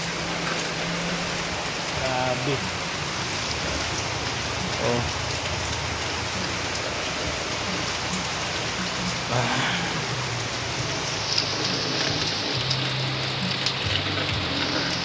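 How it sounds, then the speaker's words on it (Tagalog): Heavy rain pours steadily at a construction site, a dense unbroken hiss and patter filling the whole stretch, with a few brief spoken exclamations over it. "Ang lakas na naman ng ulan."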